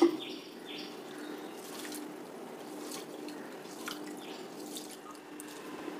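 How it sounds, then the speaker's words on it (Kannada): Rice, poha and fenugreek seeds being rinsed in water for dosa batter, giving a steady, fairly faint trickle and slosh of water that runs throughout without any talking. "ಇದನ್ನ ಇವಾಗ ನೀರು ಹಾಕಿ ಚೆನ್ನಾಗಿ 2 ಸಲ ವಾಶ್ ಮಾಡ್ತೀನಿ."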